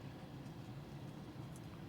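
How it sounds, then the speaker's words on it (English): A train runs through a small Texas railroad town just behind a park, a faint, steady, low rumble from some distance with no distinct horn or clatter. "there's the train going through right behind the park"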